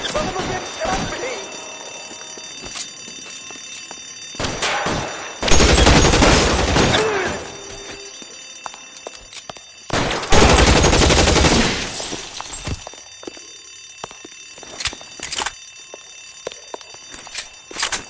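Bursts of rapid gunfire in the L.A. Noire video game, two long dense volleys plus scattered single shots, loud and close, with short bits of speech between them.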